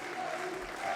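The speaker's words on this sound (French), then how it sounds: "Une minute d'applaudissement va pouvoir être donnée en hommage à leur ancien entraîneur adjoint." Stadium crowd applauding in a minute-long tribute to a former assistant coach before a football match, a steady dense wash of clapping with no break.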